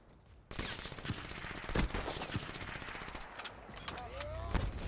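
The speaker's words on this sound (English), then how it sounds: "What is that guy shooting at me right now?" Rapid gunfire bursts from a first-person shooter team deathmatch game, continuous and dense throughout with sharp shot transients and game effects layered on top.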